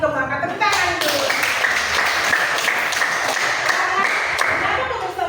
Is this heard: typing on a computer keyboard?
no